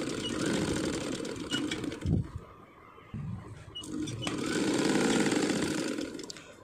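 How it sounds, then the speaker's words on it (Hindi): Electric sewing machine stitching a katori blouse, a steady loud whirring run that stops briefly near the middle, then restarts and continues to the end, close by and with no talk. "एक फिट के अकॉर्डिंग हम सिलाई करते जाएंगे।"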